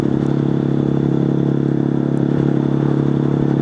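Honda Monkey 125 motorcycle fitted with a Scorpion titanium exhaust, cruising in third gear at about 30 mph, giving a loud, steady, throbbing exhaust drone with wind noise.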